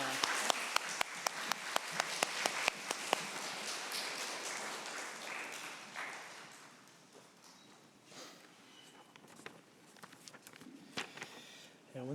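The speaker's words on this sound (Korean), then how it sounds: "우리 하나님께 영광의 박수 올려드립니다." A church congregation applauds. Sharp individual claps start the burst, then swell into dense steady clapping that fades over several seconds, with a few stray claps at the end.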